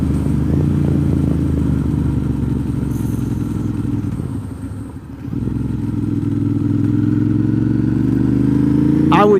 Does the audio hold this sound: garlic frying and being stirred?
no